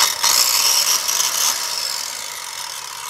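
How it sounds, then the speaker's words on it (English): A homemade chop saw, a circular saw mounted on a cutoff stand, cuts through metal with a loud, steady high-pitched whine that eases slightly toward the end, with no voices. "Who needs a chainsaw when you got a circular saw attached to a cutoff stand?"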